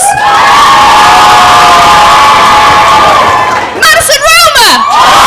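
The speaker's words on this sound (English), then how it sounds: "just cheer for your favourite and go absolutely crazy" A loud comedy club crowd cheers and shouts wildly for a comedian during a competition, with whoops and screams building into a high shrill peak near the end.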